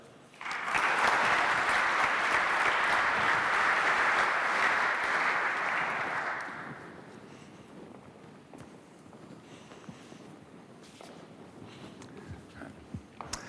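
An audience at a Smart Seeds Sydney event breaks into strong, steady applause that fills the room for about six seconds, then fades into quiet room tone with faint shuffling.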